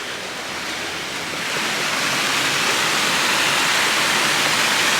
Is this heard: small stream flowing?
yes